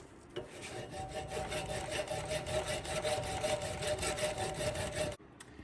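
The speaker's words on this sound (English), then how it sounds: "I'm just going to try to file it down until it's even with the bracket itself" Steady back-and-forth rasping of a metal file grinding down the aluminum of an old combination valve held in a bracket on an 88-94 OBS Chevy 1500, continuous close strokes for about five seconds, then stopping.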